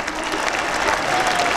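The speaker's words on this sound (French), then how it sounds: "Nous les applaudissons" A hall audience claps together in gratitude during a religious youth-day broadcast event, a brief, loud, even burst of applause.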